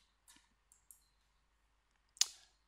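A few sparse, quiet computer mouse clicks at a desk, two soft ones early and a sharper, louder click near the end.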